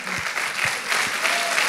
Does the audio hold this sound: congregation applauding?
yes